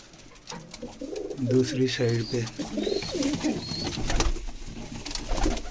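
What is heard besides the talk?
fantail pigeon cooing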